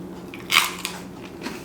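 A freeze-dried orange candy bear is bitten with one sharp, airy crunch, followed by a few fainter crunching chews close up.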